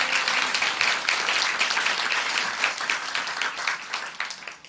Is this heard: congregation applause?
yes